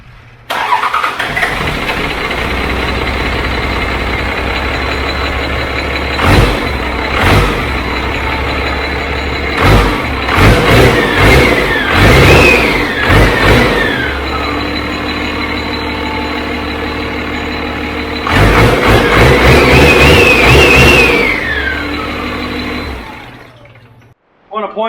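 A 12-valve Cummins diesel being prepped for a 1966 Dodge D200 crew cab cranks and fires up near the listener, then idles roughly with repeated loud throttle blips before cutting off abruptly at the end.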